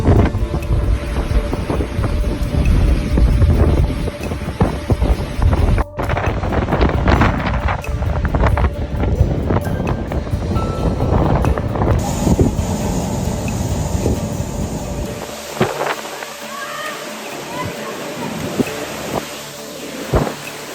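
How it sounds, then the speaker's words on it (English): Super Typhoon Saola's violent winds, around 200 kilometers per hour, batter Guangdong and Hong Kong, roaring loudly with heavy gusting rumble and rattling debris, shifting partway through to a harsher hissing rush. "The typhoon, with winds of around 200 kilometers per hour, is one of the 5 strongest to hit the densely populated province."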